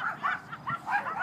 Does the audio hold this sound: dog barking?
yes